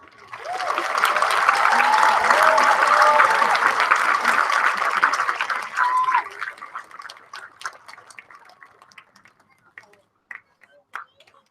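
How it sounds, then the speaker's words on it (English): A large audience at a 2017 high school graduation ceremony breaks into loud, dense applause with cheering voices for about six seconds, then thins to scattered, fading claps. "Give this man a huge round of applause"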